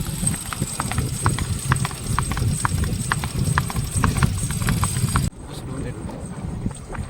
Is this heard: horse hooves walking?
yes